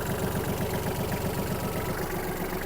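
A Kubota KL-33 mini tractor engine runs steadily at idle, a loud, even, rhythmic chugging with no pauses or voices.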